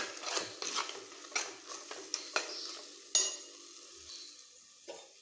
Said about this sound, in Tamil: முட்டை ஊற்றுறேன். நல்லா கலக்கி விட்டுக்குங்க.